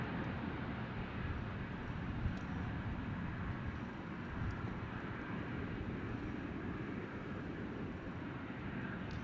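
A Qantas Link regional airliner holds short of runway 25 at Sydney airport, a faint, steady distant engine roar and broadband rumble continuing evenly without change.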